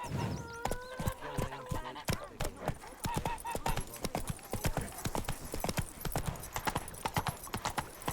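Roach, the horse in The Witcher 3, galloping: a steady, rhythmic clip-clop of hooves runs throughout, close and fairly loud, with brief faint voices and game sounds in the background.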